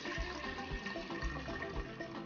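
Hibiscus and pineapple drink, known as wonjo or zobo, pours into a jug in a continuous splashing gurgle, close and steady for a couple of seconds.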